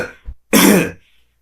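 A person coughs once in a dry, throaty burst, like a man clearing his throat amid a damp wine cellar, with a faint breath before it and quiet after.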